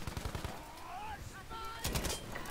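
A medium machine gun firing in a first-person shooter, rapid bursts of shots at the start and again near the end, with tonal game sounds in between, fairly loud and steady.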